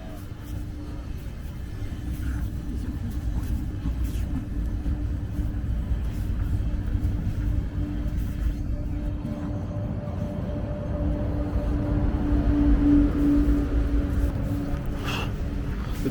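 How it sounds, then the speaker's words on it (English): A very long train on the Santa Claus Express sleeper service, heard from inside as a steady low rumble that holds evenly throughout with no speech. "It's a really long train."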